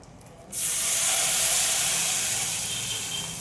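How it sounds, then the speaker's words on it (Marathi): Boiling water hits a hot tempering in a pan for a traditional Maharashtrian Holi dish and bursts into a loud, sudden sizzle that holds strong and then eases slightly. "उकळतं पाणी घालूया."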